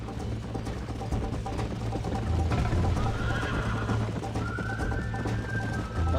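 Horse in the Red Dead Redemption video game, a loud whinny rising over steady clip-clop hoofbeats of a gallop, with a faint whistle-like tone near the end.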